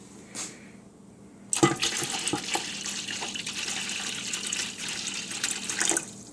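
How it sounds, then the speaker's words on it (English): Water pours steadily into the bottom of a canner, a continuous splashing rush that starts abruptly after a faint bump and runs several seconds, fairly close and loud, with no talking. "So I'm going to pour in more, 2 inches in the bottom of your canner"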